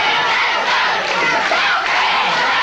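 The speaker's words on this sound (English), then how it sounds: "as you can hear them chanting now for DiBiase" A wrestling arena crowd chants for DiBiase, a loud, dense roar of many voices sustained throughout with rhythmic swells.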